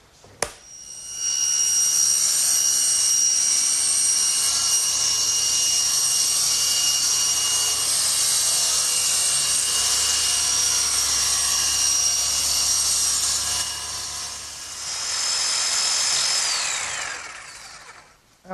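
An electric jigsaw cuts a slot in a wooden workbench part, whining in one loud, sustained buzz close by for about fifteen seconds before briefly dipping, surging again and stopping.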